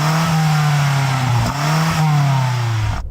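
Close, loud revving from a BMW M5 CS V8 with a soft limiter around 4,500 rpm, the steady high drone dipping and swelling twice before cutting off abruptly at the end.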